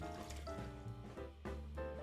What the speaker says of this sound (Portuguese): Agora eu vou acrescentar 1 litro de leite integral